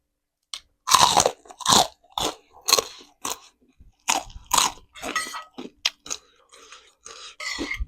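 Loud, close crunching and chewing of crisp young kale stems and lead tree shoots eaten with spicy Thai oyster salad. The bites and chews come in irregular bursts with short pauses between them.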